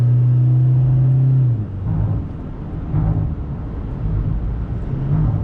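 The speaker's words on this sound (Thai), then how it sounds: "อันนี้ลองตาเร่งนะ" A lifted four-door 2020 Toyota Hilux Revo Rocco 2.8 4WD pickup drives under acceleration, its engine a loud, close low rumble heard from inside the cab. The tone shifts after a steady opening hum as the engine note rises and falls.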